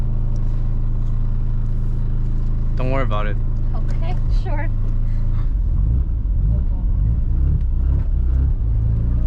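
A rumbling old car engine, a 1987 Mazda RX-7 (FC), with clanking and rattling underneath, while people talk briefly over the steady mechanical noise.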